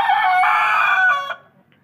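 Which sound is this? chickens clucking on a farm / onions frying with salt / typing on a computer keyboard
chickens clucking on a farm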